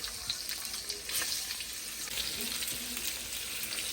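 Okra pods frying in a pan with mustard seeds, cumin, asafoetida and turmeric, a dense, fairly quiet sizzle with light crackles and occasional stirring scrapes, steady throughout, no voices.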